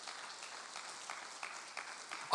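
A church congregation claps together in a soft, fairly distant patter of applause that holds steady for a couple of seconds.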